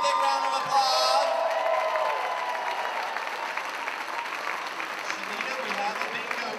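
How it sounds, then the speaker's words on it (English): An audience claps at a red-carpet bingo event, with steady applause and a few cheers and whoops while a host's voice carries over the crowd. "Let's give them a big round of applause."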